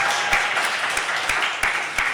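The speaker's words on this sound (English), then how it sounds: "A big round of applause for our candidates" Audience applause for debate candidates at the close of a student question-time event, steady broadband clapping with sharper individual claps standing out throughout, fairly close and sustained.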